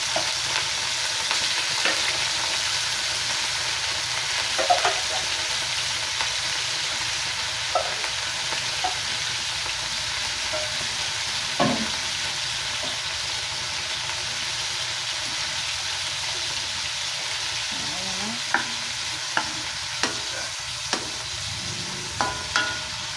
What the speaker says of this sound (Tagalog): Gisa-gisa muna natin yan. Hanggang sa mag-golden brown.